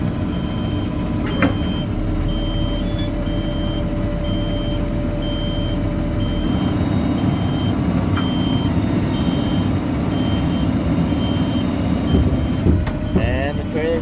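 A truck trailer is raised with a steady mechanical engine drone and hydraulic hum, loud and close, with beeping tones running through it and people talking over it.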